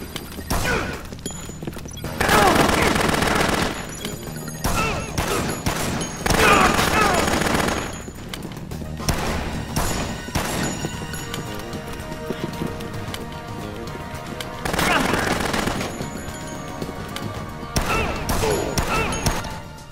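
Gunfire in the video game Dead Rising, with loud bursts of shots in clustered volleys separated by quieter stretches of background game sound, including thumping footfall-like noises.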